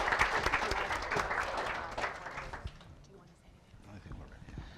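An audience at a panel event on Venezuela's transition, security and democracy applauds its guests, a loud burst of clapping that gradually fades away with some voices over it.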